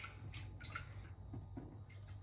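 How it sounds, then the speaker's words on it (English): Water splashes and drips while a cooking pot is rinsed, a soft, close trickle with a few wet sloshes over a low steady hum. "I'm just going to quickly rinse this pot."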